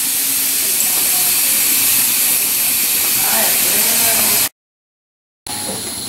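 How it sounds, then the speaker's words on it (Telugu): A pressure cooker vents steam while cooking curry for poori and chapati. The loud, steady hiss breaks off for about a second of silence, then resumes. "అలా ఆవిరి బయటకు వెళ్ళిపోయిన తర్వాత మూత తీసి"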